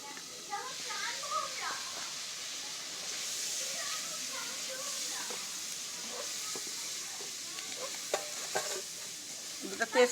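Bay leaves, cinnamon, garam masala and chopped onion sizzle in hot oil in a wok, a steady frying hiss with scraping stirs and clinks, while a voice talks over it.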